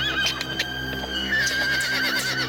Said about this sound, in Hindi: घोड़ा आगे बढ़ता ही नहीं।